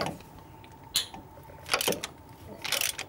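A wrench cracks loose 13 mm nuts on the water pump of a 1985 Ferrari Mondial QV, giving three short metallic clicks and ratchet bursts spaced about a second apart against a quiet garage background.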